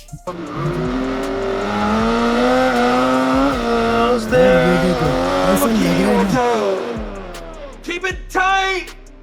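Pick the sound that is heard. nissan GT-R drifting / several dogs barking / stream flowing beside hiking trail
nissan GT-R drifting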